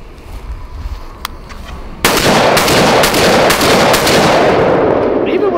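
A Mossberg 930 shotgun firing buckshot outdoors on a range: after a quieter stretch, a loud blast opens a sustained, dense roar of rapid overlapping shots and reports lasting several seconds.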